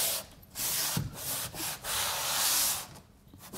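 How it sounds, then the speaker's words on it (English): A broad, steady scraping rub of a HardieBacker cement board sliding over tile adhesive on a masonry wall, in a few long strokes with brief pauses, close and fairly quiet. "all I'm going to do is slide the board along"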